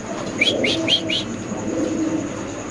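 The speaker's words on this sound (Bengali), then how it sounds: "আমাদের কাছে ইন্দোনেশিয়ান স্প্যানিশ কবুতর, একটা নর কবুতর নাকি ভাই?" A male Indonesian Spanish pigeon coos close by, a quick run of four rhythmic throaty notes over a low background murmur.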